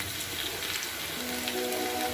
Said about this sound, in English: brown the onion and fry it